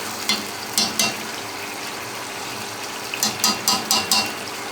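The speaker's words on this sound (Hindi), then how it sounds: "अब गोश्त की भुनाई हो रही है" Goat head meat and masala being fried over medium heat for a Pakistani siri curry, a constant close sizzle broken by bursts of spoon scraping and stirring, with no voices.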